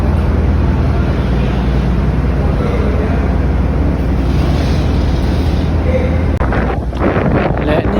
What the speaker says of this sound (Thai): คือบรรยากาศบนเรือซีไทม์เฟอร์รี่นะครับผม